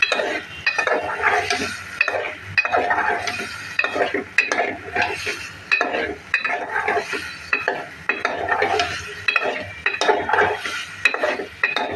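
Potato strips being sautéed with spice masala in a pan for a tilapia and potato dish, pulsing stir-and-scrape sounds over a sizzle, with utensils clinking against the pan.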